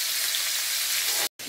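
Salmon frying in a pan on lowered heat, a dense, even hiss of sizzling oil heard close and steady, cut by a brief silent gap just before the end.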